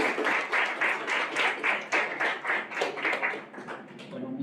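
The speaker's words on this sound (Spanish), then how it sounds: "yo pido un aplauso para don Gilberto." An audience at a university book fair gives a short round of applause, a few seconds of uneven clapping in pulsing bursts that fades toward the end, with no voices over it.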